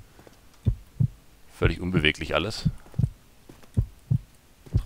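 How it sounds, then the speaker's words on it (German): Slow, heavy heartbeat thuds pulse at an even rhythm through a dark horror scene in Amnesia's Silent Hill custom story, while someone talks over part of it. "Warum zum Teufel schlägt hier noch ein Herz?"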